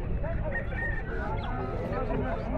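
Fayoumi chickens at a bustling outdoor bird and animal market cluck in a dense, continuous mix of poultry calls, with crowd voices and market noise running underneath throughout.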